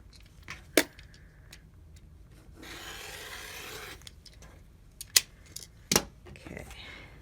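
Quilt fabric being cut to a 2-inch strip, a soft sustained rasp of the cut running for about a second and a half, framed by a few sharp clicks and handling knocks in a quiet room.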